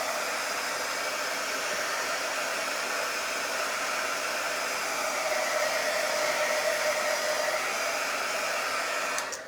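A hair dryer blows steadily on a handmade floral welcome sign, giving a constant whirring hiss that holds at even loudness for several seconds and then cuts off abruptly at the end.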